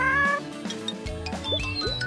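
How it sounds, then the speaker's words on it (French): A cat meows in a cartoon scene among layered music and effects, its voice fairly loud and mixed into the score for about two seconds. "Hé, hey, Minou, Minou! Viens ici!"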